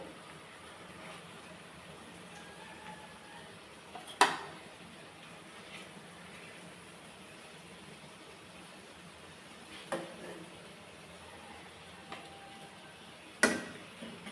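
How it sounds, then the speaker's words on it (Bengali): Fried hilsa fish pieces are lifted out of a pan: three faint, sharp utensil taps spaced several seconds apart over a quiet kitchen background. "এবার মাছগুলো তুলে রাখবো আমি মাছগুলো এইভাবেই তুলে রাখবো"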